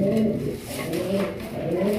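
Several Blackless Satin pigeons coo in a rolling, repeated low murmur, close and continuous, with overlapping calls rising and falling.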